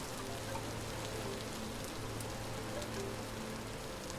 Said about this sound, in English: Sheltered from the rain.